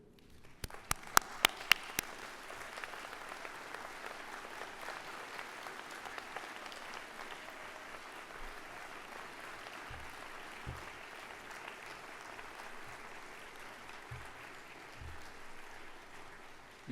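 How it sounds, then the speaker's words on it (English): Graduating class of 2013 applauding their supporters at a graduation ceremony: a few sharp claps at the start, then a sustained, distant wash of crowd clapping in a large hall, fairly quiet overall. "I would ask the graduating class of 2013 to please stand up and applaud all the supporters who are here"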